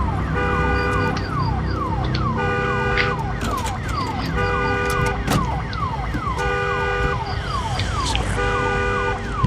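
A loud vehicle siren wails in repeating sweeping cycles in the survival video game Days Gone, steady and close throughout with no talking.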